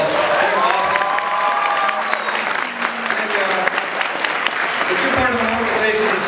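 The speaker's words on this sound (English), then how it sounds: "Let's give them another big round of applause." A large crowd at a SkillsUSA state opening ceremony in Arizona claps loudly for the state officer team, with scattered cheers and shouts riding on dense, continuous applause.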